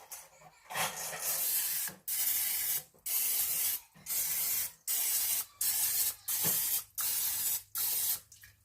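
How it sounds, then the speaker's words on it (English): Cooking spray hisses over wheat banana muffins in about nine short, rhythmic bursts of roughly a second each, close and clear with brief silent gaps between. "I should have sprayed these with the sprays."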